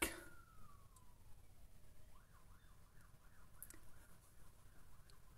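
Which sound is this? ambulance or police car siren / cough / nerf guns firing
ambulance or police car siren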